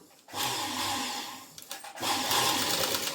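A sewing machine stitches padded blouse fabric with a half-inch margin, its motor whirring in two sustained runs separated by a brief slowdown, close and fairly loud, with no talking.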